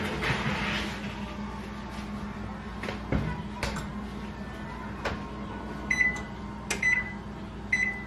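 Oven runs with a low steady hum while chocolate chip cookies bake inside, with scattered clicks and a few short beeps toward the end.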